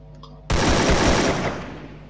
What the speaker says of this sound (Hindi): वो गोली चला के देखनी मुझे इसके अंदर